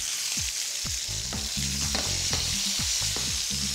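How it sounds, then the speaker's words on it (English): Cherry tomatoes frying in a hot pan alongside crispy browned food, giving a steady close sizzle with bursts of popping and crackle, and no voices. "to my pan, I'm going to add some cherry tomatoes"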